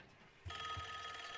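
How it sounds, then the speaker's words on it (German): A telephone rings inside the Call of Duty Black Ops 6 video game, a faint ring that starts abruptly partway in and sustains to the end. "Nein, nicht wieder ein Telefon."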